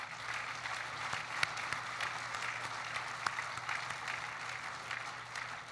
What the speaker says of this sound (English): give a round of applause to our veterans